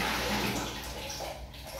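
Water splashes continuously in a bathroom during a child's bath, a brief burst of sloshing and spattering.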